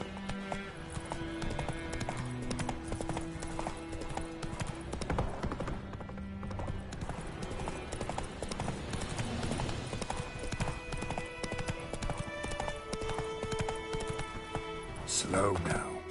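A horse gallops in The Witcher 3, rhythmic hoofbeats clip-clopping throughout under game music and ambient effects, with a rider's voice occasionally speaking.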